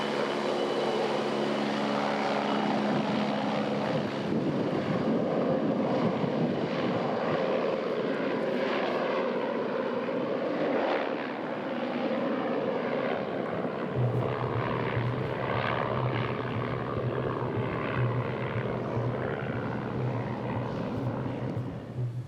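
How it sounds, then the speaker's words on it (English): A propeller plane flies mail, food and supplies to the village on Little Diomede Island, off the Alaskan mainland. Its engine drones loud and steady for the whole stretch, with the pitch shifting as it passes. "It's the one day a week that mail, food, and supplies are flown into the village."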